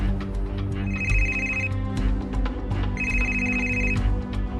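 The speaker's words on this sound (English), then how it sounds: "My phone had fallen out of my pocket and was ringing in the grass." A mobile phone lying in grass rings with a looped melodic ringtone, two clear bursts of bright electronic tones over a continuous background music bed.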